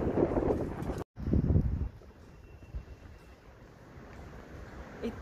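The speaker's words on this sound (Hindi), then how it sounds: "आज तो यह हवा चल रही है." Strong wind gusts buffet the microphone outdoors in a Georgian town on a sunny day, loud rumbling bursts in the first two seconds, then a steadier, softer rush of wind continuing to the end.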